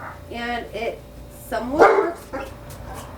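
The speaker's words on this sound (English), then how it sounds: "She hears the other dogs barking, and now she wants to bark with me." A few sharp dog barks and yips, fairly close, interrupting a person speaking.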